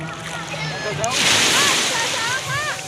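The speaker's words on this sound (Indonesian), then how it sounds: "Widya, ombaknya gede loh ya" Big ocean waves break on a beach with a broad wash of surf that swells in the middle, while children's and adults' voices chatter over it.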